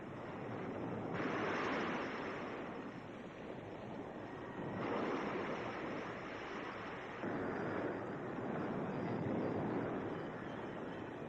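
Storm waves and gusting wind at sea along the Normandy coast make a broad, rushing roar that swells and ebbs in several long surges, with no voices.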